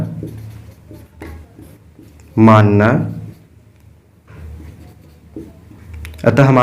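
A pen scratches on paper while a maths solution is written out, the faint writing running softly beneath a man's steady explanatory speech.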